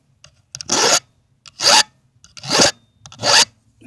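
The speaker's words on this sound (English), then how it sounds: "I sharpen this and your chain will move freely." Round file sharpening a Stihl chainsaw chain outdoors, four distinct rasping strokes evenly spaced about a second apart, close and crisp with short silences between.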